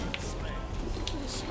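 Pigeon-like cooing birds from a Smite character's ability in a video game, soft repeated coos under steady game ambience with a voice talking over them.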